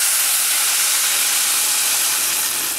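Water being poured into a hot pot of salted rice on the stove, releasing a loud, continuous broadband hiss of steam and sizzle that holds steady for a few seconds, with no speech.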